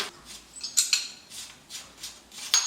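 Light metallic clinks and scrapes as a slightly rusty bottom bracket retaining nut is unscrewed from the non-drive side of an older Cannondale road bike, a few close, quiet taps spaced irregularly.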